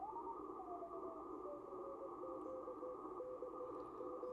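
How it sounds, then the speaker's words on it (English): Faint, steady tones of Morse code beep in short on-off patterns through a low, hissing ham radio background. "here's the Morse code."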